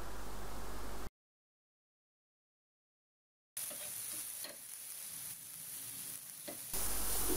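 Spice paste for a mustard pabda fish curry fries in oil in a pan with a continuous hissing sizzle and soft stirring scrapes. A stretch of total silence breaks it partway through.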